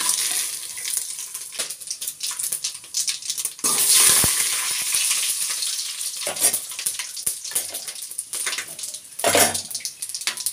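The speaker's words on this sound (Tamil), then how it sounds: "எண்ணெய் சூடாகிட்டு இப்போ வந்து பட்டை வகையெல்லாம் சேர்த்துக்கலாம்." Whole spices crackle and sizzle in hot oil in a home kitchen pan, a steady near frying hiss with louder bursts as the pan is stirred, no talking.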